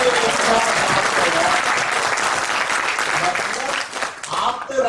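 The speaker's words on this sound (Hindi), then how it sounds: "एक बार जोरदार तालियां बजाएं भाई उनके लिए" An audience at a Hindi stage play claps loudly and continuously, a dense wash of applause that dips and swells slightly toward the end, with some voices mixed in.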